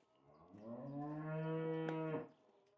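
A first-calf dairy cow gives one long, low moo on a farm, swelling and then fading over about two seconds with no voices.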